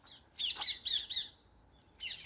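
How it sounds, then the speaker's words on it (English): Parakeets squawk at allotments in South Croydon, giving a burst of shrill, harsh calls, a short pause and then another squawk, loud and fairly close over faint background noise. "You can hear the parakeets."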